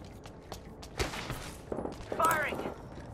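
Gunfire in the Apex Legends video game, with a few distinct loud shots and short bursts spaced over a few seconds above a low steady game ambience.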